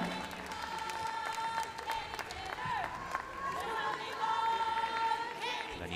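Irish supporters at a women's 60kg bout of the 2014 World Boxing Championships keep up steady applause and crowd noise in the arena, heard beneath a commentator talking throughout.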